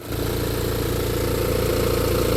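The B47 diesel engine of a BMW X1 F48 idles steadily at close range with an even, continuous mid-low drone, with no talk over it.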